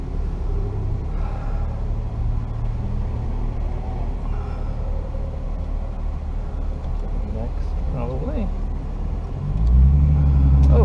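A Nissan 370Z rumbles low and steady through its engine on a racetrack, with people talking over it throughout and the rumble swelling near the end.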